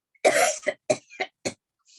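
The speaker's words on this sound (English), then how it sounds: "And then cough." Several sharp coughs in a row during a postural drainage breathing exercise, the first long and harsh, followed by three shorter bursts close to the microphone, with no talking.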